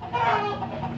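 Laying hens in a coop cluck close by in a short, continuous throaty murmur.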